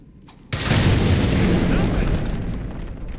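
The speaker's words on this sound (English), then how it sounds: "Let's make the explosion. These explosives." A loud explosives detonation in Assassin's Creed Shadows bursts in suddenly after a short quiet moment, then rolls on as a sustained deep rumbling roar.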